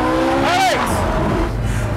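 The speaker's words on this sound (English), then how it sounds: "Just the smell of the engine, the revving of and the sound and the speed." A Ferrari engine revving hard during launch acceleration, a loud close roar with a rising then falling whine and a brief screech, continuing steadily as a voice is heard over it.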